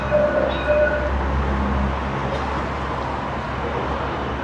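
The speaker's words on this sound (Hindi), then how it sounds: "लो भाई ये आ गई है मेट्रो" A metro train in Mauritius rumbles in with a low, steady roar and faint high brake squeals, the noise gradually settling as it pulls into the station.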